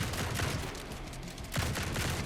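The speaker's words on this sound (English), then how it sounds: "Warborn shotgun." Shotgun blasts from a Warborn shotgun in a demon-horde action roguelite, a dense burst of loud gunfire, a pause, then another heavy volley around the middle of the stretch.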